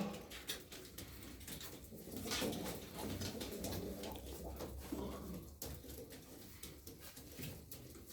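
Pigeons in a loft coo softly and faintly, low murmuring calls blended into a hazy background with occasional light rustles.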